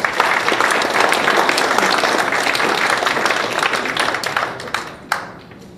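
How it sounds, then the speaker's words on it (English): A loud round of applause from an audience at an evening of gratitude honouring donors and supporters, dense clapping that holds steady, then thins out, ending with a few last claps. "So I would suggest a big round of applause for all those who do help us."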